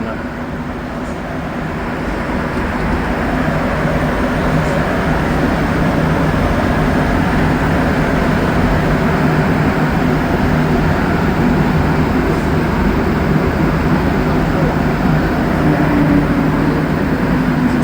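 Montreal STM metro train approaching De La Savane station, a constant loud rolling roar and hiss of the moving car, with no voices.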